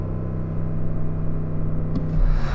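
A BMW performance model's engine is held against its soft limiter at 4,000 RPM, producing a loud, steady droning rumble with a pulsing hum, then a brief flutter and a deeper surge near the end.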